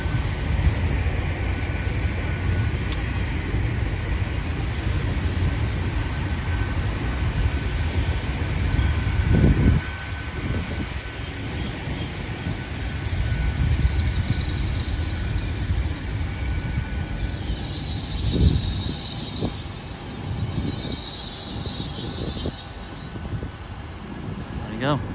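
A CrossCountry HST train moves through Totnes station with a loud, continuous rumble and wheel noise, and high squealing tones rise and waver toward the end.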